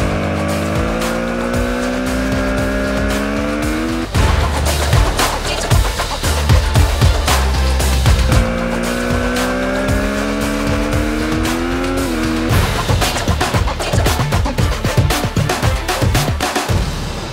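A 2020 Triumph Street Triple RS motorcycle at full throttle on the Cartagena race circuit, its loud engine climbing steadily through the revs, then dropping sharply on gear changes, with a repeated rising and falling pattern and no talk.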